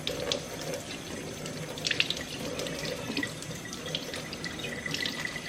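Tap water runs steadily into a kitchen sink as shrimp are rinsed under it, a continuous close splashing stream with small irregular drips and clatters and no voices.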